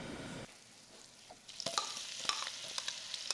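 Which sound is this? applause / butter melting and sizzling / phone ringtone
butter melting and sizzling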